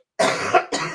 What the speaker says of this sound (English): Now that I started coughing, it's not going to want to stop.